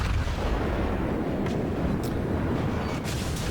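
Secondary guns of the Yamato battleship fire in a naval battle in World of Warships, a dense, continuous roar of booming gunfire with a few sharper cracks standing out.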